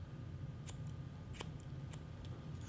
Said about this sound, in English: comb it straight up, and cut it straight across